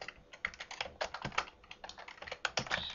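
Fast typing on a computer keyboard, a dense run of crisp, close key clicks with uneven rhythm, alone without talk.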